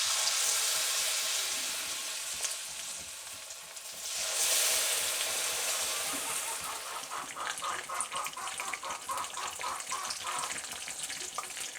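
Pumpkin flowers fry in hot oil with a steady, bright sizzle throughout, which swells into a louder crackling burst midway as more batter hits the pan, then settles into continued bubbling.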